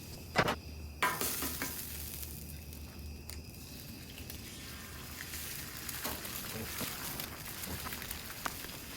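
Eggs scrambled on a hibachi griddle where Wagyu has just cooked: a couple of sharp spatula knocks at the start, then a quiet, steady sizzle with soft scraping strokes, nearby and without talking.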